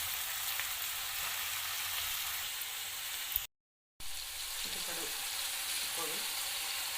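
Ridge gourd and tomato pieces frying in a pan make a continuous hiss that stops for a moment and then resumes with soft stirring scrapes. No one speaks.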